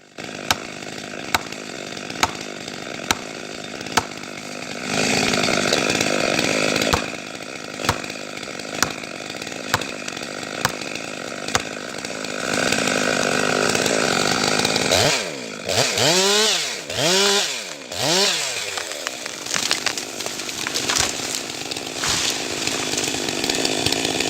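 A chainsaw cuts through a tree in a snow-covered forest, its engine running loud and steady throughout, rising into several sharp, screaming revs near the end as the trunk gives way and the whole tree falls.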